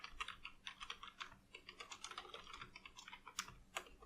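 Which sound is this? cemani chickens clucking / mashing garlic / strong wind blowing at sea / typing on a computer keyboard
typing on a computer keyboard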